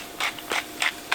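A hand pepper grinder cracking peppercorns while cooking penne alla vodka over a campfire: four short, evenly spaced gritty crunching twists, close and fairly crisp.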